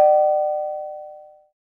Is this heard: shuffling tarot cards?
no